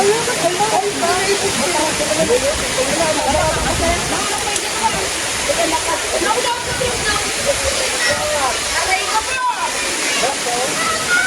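People splash and bathe in water outdoors, giving a steady loud rush and slosh throughout with voices talking over it.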